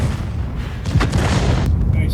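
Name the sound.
tank cannon firing in World of Tanks video game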